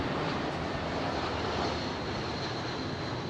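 A Singapore Airlines Boeing 747 freighter roars on approach, a broad, steady engine rush filling the air at moderate distance with no pause.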